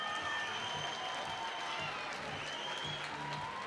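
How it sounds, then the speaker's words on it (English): A crowd at a speed climbing final in Chamonix breaks into sustained applause and cheering, a dense wash of clapping that continues steadily throughout at moderate distance, with some voices mixed in. "Eric Neuer hypes the crowd."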